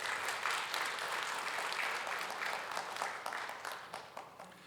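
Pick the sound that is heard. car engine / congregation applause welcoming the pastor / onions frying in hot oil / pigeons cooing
congregation applause welcoming the pastor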